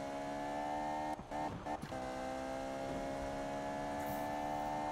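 A race car engine in a Need for Speed 2015 drag race holds a steady high-pitched drone, briefly dips and stutters through quick gear shifts, then climbs back to a sustained whine.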